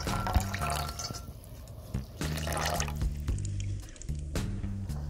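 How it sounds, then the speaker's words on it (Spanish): Olive oil and vinegar poured into a bowl outdoors in a forest, heard as a close, steady liquid stream with dripping and trickling over several seconds, briefly thinning and then resuming. "Colocamos en un tazón 300 mililitros de aceite de oliva, de preferencia extra virgen, 100 mililitros de vinagre"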